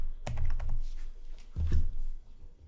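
Someone types on a computer keyboard while entering query criteria in Access 2010, two short bursts of quick, close clicking taps separated by a pause.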